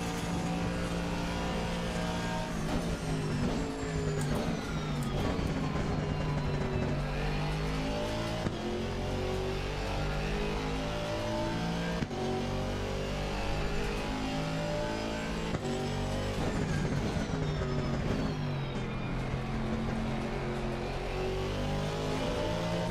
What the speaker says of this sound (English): I'm going to hit my limiter again. Blow my engine.